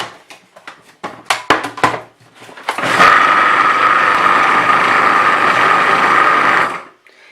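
A blender whirs steadily through a chickpea truffle mixture for a few seconds after a series of short clicks and taps, then cuts out abruptly; loud and close with no talking.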